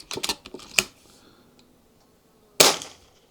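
An air rifle fires a pellet: a sharp, close crack with a short clattering decay, after earlier clicking mechanical handling noises and a quiet gap.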